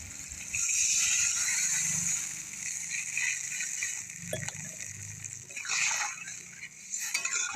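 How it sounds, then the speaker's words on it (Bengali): Water poured into a pan of fried fish curry spices for Bengali macher jhol: a steady hissing sizzle and pouring wash with light clinks of utensils, fairly close and continuous. "এবার আমি জলটা দিয়ে দেবো।"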